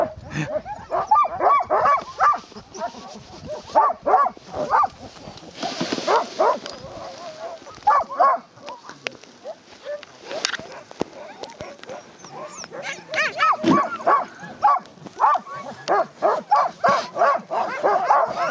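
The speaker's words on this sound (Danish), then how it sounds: "Sindssyg hunde." A team of sled dogs on a dog sledding trip in Svalbard, barking and yipping loudly and repeatedly in rapid excited bursts throughout, with some whimpering and occasional voices among them.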